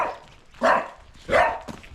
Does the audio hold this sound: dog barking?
yes